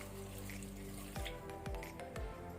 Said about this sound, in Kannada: ನೀರು ಹಾಕೊಳ್ಳುವ